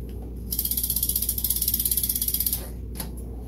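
Ratchet tightening a part during a bicycle repair, producing a fast, even run of close clicking for about two seconds, followed by a faint single click.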